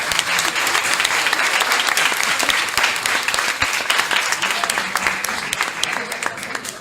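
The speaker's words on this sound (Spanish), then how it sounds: "un fuerte aplauso, por favor" An audience at a school anniversary ceremony applauds speakers, steady dense clapping from many hands that carries on throughout and fades slightly toward the end.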